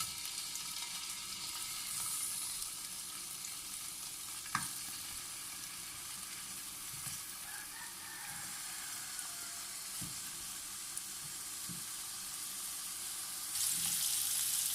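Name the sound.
potatoes frying in desi cow ghee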